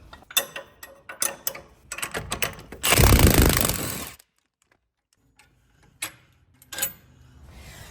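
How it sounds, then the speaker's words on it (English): Ratchet and 18mm wrench work on the front upper control arm bolt of a Jeep Wrangler or Gladiator axle, close clicking ratchet bursts, a loud grinding stretch, then silence and a few sparse metallic clicks. "I'm going to be using an 18mm wrench and socket to remove the front upper control arm from"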